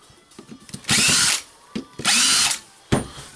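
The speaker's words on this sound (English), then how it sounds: "we need to deassemble the drill." A cordless drill whirs in three loud bursts, each running about half a second, separated by brief pauses with faint handling noise, close up and without speech.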